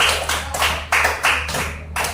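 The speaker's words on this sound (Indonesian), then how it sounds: "Tepuk tangan dulu untuk kelompok cincin." A classroom of children clap in a rhythmic patterned cheer for a student group: about six loud, distinct bursts of clapping at uneven intervals, close and alone without talk.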